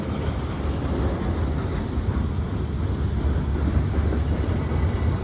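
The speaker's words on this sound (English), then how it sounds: "Train going under the bridge." A freight train passes under a bridge at North Murrow Blvd, a steady low rumble with a continuous wheel roar and a high whine, heard from nearby above without talk.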